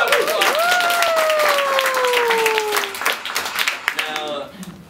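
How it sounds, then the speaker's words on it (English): Audience applause rings out for a young story author, loud clapping and crowd noise with a long sustained vocal tone, like a cheer or sung note, over it, then thinning out as voices come in near the end. "Another round of applause."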